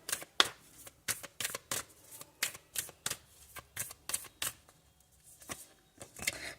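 Tarot cards handled and shuffled at a reading table, a quick run of crisp, close riffling flicks and slaps in an uneven rhythm, fairly quiet and with no talk over them.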